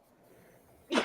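A single sharp sneeze bursts out near the end after a quiet stretch, close and loud, during a sports talk conversation.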